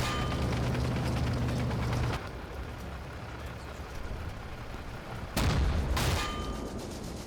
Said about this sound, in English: We're starting to put rounds into that last Italian tank there.